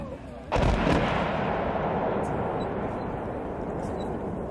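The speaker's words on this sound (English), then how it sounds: "The 105mm battery will be engaging the two tanks immediately to the front of the position, while the 155mm howitzers will be engaging a BRDM" A 105mm or 155mm howitzer fires a single loud, booming round during a military demonstration at a range, followed by a long rumbling echo that slowly decays.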